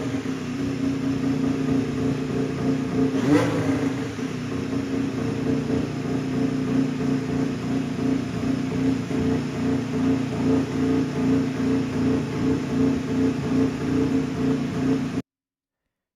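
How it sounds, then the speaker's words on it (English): A Honda Formula 1 power unit runs during testing in Bahrain, giving a steady, droning engine hum with a brief surge near the start, heard alone at a distance. "So that's the sound of the Honda power units."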